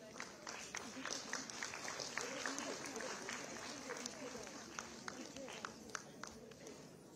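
An audience at a village livelihood-mission award ceremony for self-help groups claps steadily, a dense patter of many hands with sharper individual claps near the front, a voice carrying over it.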